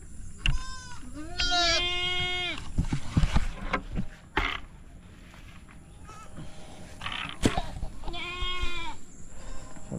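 Goats bleating on a farm, several loud wavering calls at the start and another near the end, with handling noises and a faint voice in between.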